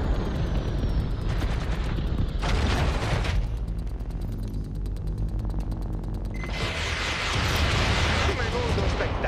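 Rapid crackling bursts of fireworks and explosions from Watch Dogs: Legion fill the scene, a dense, loud, continuous barrage with a sharper burst late on, a voice speaking over it.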